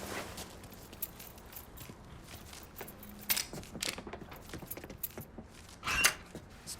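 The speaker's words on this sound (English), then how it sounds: "Lincoln, pick up the keys." Keys jangle as they are picked up in the Mafia III video game, a few brief metallic clinks over a low ambient game background.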